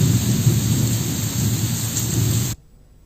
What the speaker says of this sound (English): The last sound was there, the rain and thunder.